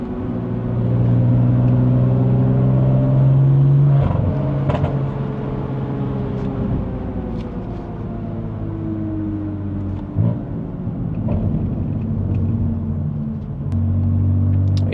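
A 2020 BMW M4 Competition with a Stage 2 tune cruises along back roads in New Jersey, its engine droning loud and steady with rising and falling rumbles as it shifts and accelerates, close up and with no talking.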